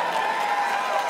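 A large crowd at The Game Awards 2022 roars and cheers steadily, a dense wash of voices filling the space without pause.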